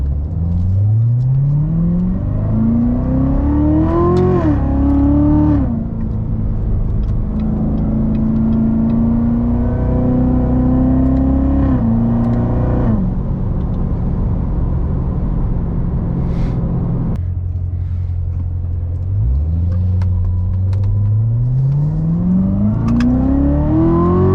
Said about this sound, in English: we got the Ramapo College bus rolling coal